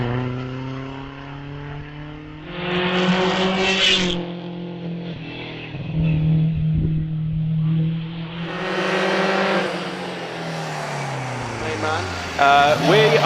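A race car accelerating up the Prescott hillclimb during a British Championship event, engine revving through rising gear changes with a brief drop between pulls, loud and near, with a commentator talking over it.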